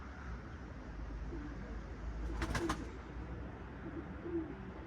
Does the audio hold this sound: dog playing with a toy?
no